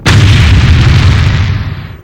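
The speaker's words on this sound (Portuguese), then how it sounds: "outra explosão ocorre." A loud explosion bursts with a deep, heavy rumble that sustains briefly before fading out quickly at the end.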